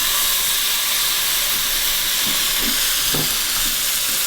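An oiled and salted steak searing in a dry pan, a loud steady hiss of sizzling close by with a few soft shifting knocks, no talk.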